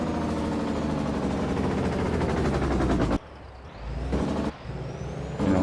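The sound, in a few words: old Mack truck running loudly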